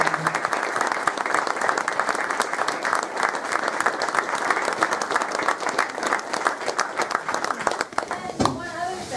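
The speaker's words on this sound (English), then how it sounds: "Give everyone a round of applause." Audience applause at a racing owners club meeting for a BTCC team, steady dense clapping from a packed room that carries on for about eight seconds before cutting off abruptly near the end.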